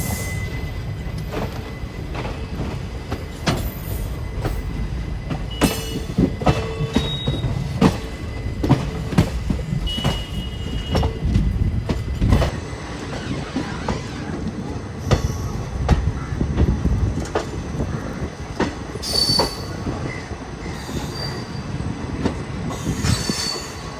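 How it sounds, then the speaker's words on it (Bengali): Two trains pass in succession through a station near Barauni Junction, with loud rattling wheels, sharp squeals and clickety-clack beats sustained throughout. "পরপর দুটো ট্রেন ছেড়ে দিল, মানে পাসিং হয়ে গেল"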